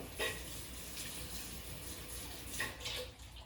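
Tap water runs steadily into a cooking pot being rinsed out in a home kitchen, a continuous close rushing splash with brief louder bursts as the container shifts under the stream.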